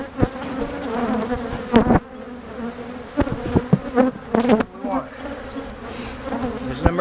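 Bees swarm around a camera at a hive during a split inspection, a close, steady buzzing with wingbeats sweeping past the lens, punctuated by sharp knocks and handling sounds.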